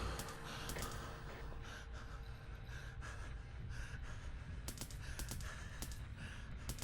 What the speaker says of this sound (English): that's just him breathing heavily